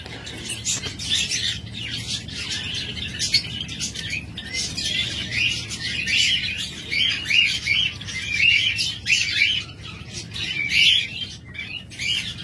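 Caged pet lovebirds or budgerigars, including a green opaline pair, chirp and squawk in dense, overlapping bursts that continue throughout, close and lively, with faint low room noise underneath.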